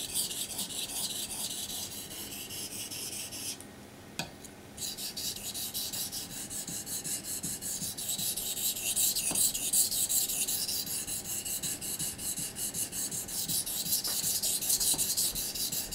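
A V-edge blade being sharpened on a water-soaked whetstone, a continuous close rasping scrape of steel on wet stone with steady strokes throughout.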